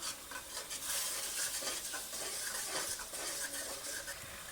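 Garlic paste being stirred with tomatoes and onions in a pan, a quiet continuous sizzle with soft scraping strokes of the spoon repeating throughout.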